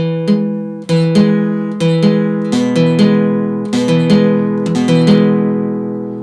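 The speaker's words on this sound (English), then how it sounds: "your strings are not going to ring out" Acoustic guitar strums repeat at a steady pace, each chord short and dull with choked strings that die away quickly instead of ringing.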